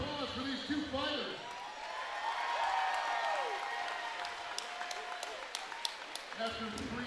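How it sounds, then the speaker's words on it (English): Crowd applause and cheering fill the venue after a three-round fight, bursts of clapping building and then easing off, with a few sharp claps near the end and voices mixed in underneath. "a big round of applause for these 2 fighters."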